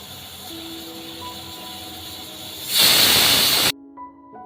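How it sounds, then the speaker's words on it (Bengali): An electric stove gives a sudden loud hiss for about a second when switched on, rising out of a quiet room with faint tonal hums, then cutting off abruptly. "ইলেকট্রিক চুলা অন করার সময় এরকম শব্দ কেন হয়"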